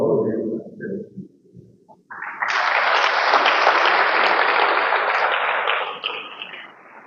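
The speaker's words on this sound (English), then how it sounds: "another round of applause" Loud, sustained applause from an audience at a public-private sector business roundtable swells in after a brief spoken opening and continues for several seconds before tapering slightly.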